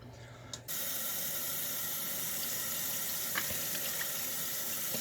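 Cold water running hard from a kitchen tap for cooking, starting abruptly after a brief quieter moment and continuing as a steady, loud, close rush.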